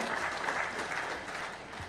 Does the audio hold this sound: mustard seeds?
no